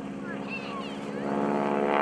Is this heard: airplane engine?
yes